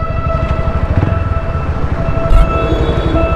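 A train rolls past with a steady low rumble and rhythmic rattling, close and loud, filling the short stretch with no talk.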